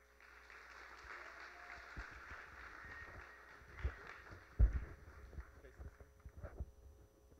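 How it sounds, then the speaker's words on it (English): An audience at a college first-year convocation award presentation claps in scattered, moderate applause with a few louder thumps, heard over a low hum and rumble. "so another round of applause for Mr. Robert Mullins"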